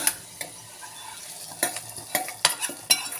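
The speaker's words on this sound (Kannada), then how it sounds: "ನಾನು ಒಗ್ಗರಣೆ ಹಾಕ್ತಾಯಿದ್ದೀನಿ" Oggarane tempering with green chillies sizzles in a pan for bottle gourd sambar, a soft crackle broken by several sharp clinks and scrapes of a spoon against the pan.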